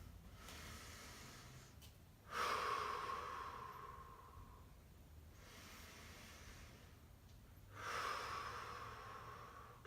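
Two slow, deep recovery breaths after a hamstring exercise, each a long, airy exhale through the mouth, close and fairly soft, separated by a quiet pause of about five seconds.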